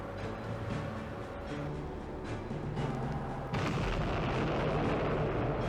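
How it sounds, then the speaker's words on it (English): A deep, rumbling blast of explosions and heavy booms from a Falklands War naval video game, a hit rocking a ship, with a sharp surge in loudness partway through as another impact hits. "Hit! The explosion rocks Cinco de Mayo."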